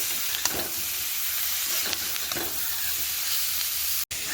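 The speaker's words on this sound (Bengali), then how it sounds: "এর মধ্যে দিয়ে দেবো ভেজে রাখা ফুলকপি।" Fried cauliflower pieces go into spices fried with Kashmiri chilli powder, salt and turmeric, stirred in a pan with a steady close sizzle and a few scraping clicks of the spoon.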